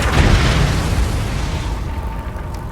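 Flipendo spell cast in the Hogwarts Legacy video game, a loud booming burst that hits hard at the start and rolls off into a sustained rumbling tail with no talk.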